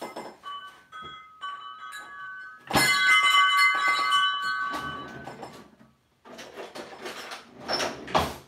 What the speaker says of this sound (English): Everyone always makes fun of me for the chimes on my fridge.